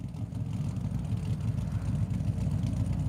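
A Mercedes AMG GT3 racing car with a 6.3 litre V8 idles during a GT series session at the Nürburgring, giving a steady, burbling low rumble that stays fairly loud and even throughout.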